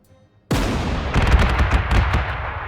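Counter battery artillery fire in Panzer Corps 2 opens abruptly after a quiet moment with a heavy boom, followed by a sustained roar of rumbling blasts and crackling impacts, loud and dense.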